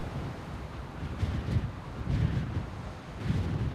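Low, rumbling wind sound effect surging in repeated gusts, a deep rushing that rises and falls with no voices.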